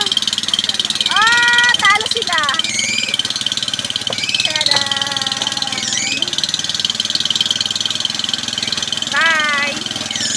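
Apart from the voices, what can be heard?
engine noise of a loaded vehicle on a railroad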